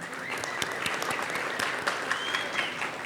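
A conference audience gives a round of applause for university students, steady, dense clapping with a few sharper claps standing out, sustained for a few seconds with no talking.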